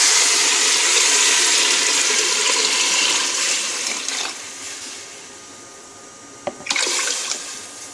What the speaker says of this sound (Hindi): 2 से 3 गिलास पानी ऐड करेंगे।